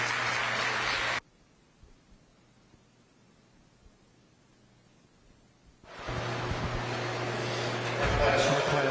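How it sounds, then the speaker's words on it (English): Applause from the audience at a youth fair dog show: a crowd clapping is cut off abruptly, followed by several seconds of near silence, then it resumes, slightly louder and continuing to the end. "So let's give Blake another big round of applause"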